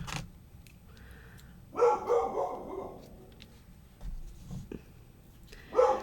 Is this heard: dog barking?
yes